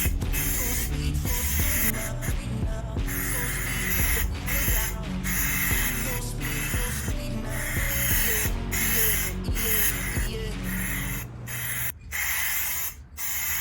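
Spray paint going onto a plastic bumper cover of a 1994 Acura Integra, a heavier coat laid down in steady hissing bursts with brief pauses between passes, close and continuous.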